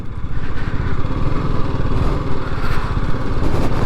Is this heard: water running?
no